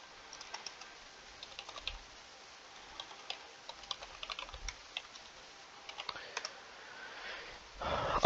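Typing on a computer keyboard while renaming an identifier in code, with soft, close key clicks coming in short irregular bursts and small pauses, faint and without talking, followed by a brief rustle at the end.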